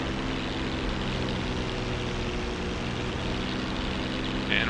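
A P-51 Mustang engine running steadily while the propeller control is cycled, a constant droning roar with a low harmonic hum, even and loud throughout with no clear change.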